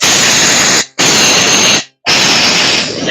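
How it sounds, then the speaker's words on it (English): Compressed air blasting over cleaned parts of a 2009 Suzuki GSX-600R motorcycle, loud hissing bursts in three close spurts with brief silent gaps, no talking. "So we'll take a little bit of compressed air."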